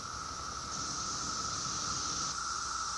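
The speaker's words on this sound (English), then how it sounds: "The constant hum you hear in the background is the sound of millions of cicadas buzzing in unison." Millions of cicadas buzz in unison near a park in Washington, DC, forming a steady, loud, continuous droning hum with no break or change in rhythm.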